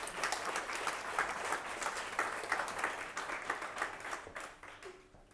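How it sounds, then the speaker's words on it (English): A business-talk audience gives a speaker a sustained round of applause, dense steady clapping that thins toward the end. "I think Nigel deserves one more round of applause"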